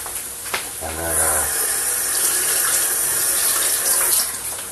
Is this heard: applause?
no